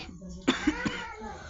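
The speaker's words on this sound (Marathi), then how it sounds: "अरे खोकला झालेला आहे फार." A short burst of about three close coughs in quick succession, with faint background noise.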